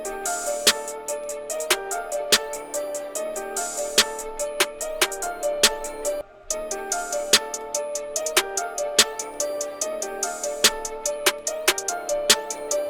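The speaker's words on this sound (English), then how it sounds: "let's get an open hi-hat in here now" Trap beat made for a track, looping dense melodic layers over punchy drums with a bright open hi-hat ringing on repeating offbeats, loud and steady, briefly dropping out mid-loop before restarting.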